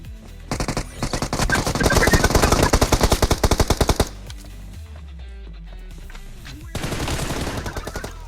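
Rapid automatic gunfire erupts during an attack in the mobile shooter BGMI, bursts of close loud shots for several seconds, a brief lull, then another volley of fire.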